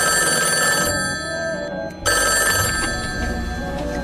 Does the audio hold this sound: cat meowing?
no